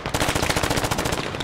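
Sustained automatic machine gun fire in the video game Squad, a dense run of rapid, loud shots for about a second and a half with no pauses and no voices.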